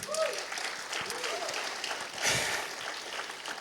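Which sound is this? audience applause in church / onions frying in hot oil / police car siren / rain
audience applause in church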